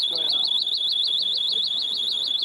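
A pocket alarm of the kind police in Vienna handed out on New Year's Eve sounds a shrill, continuous warbling tone that pulses rapidly and stays loud and steady throughout, with faint background noise underneath.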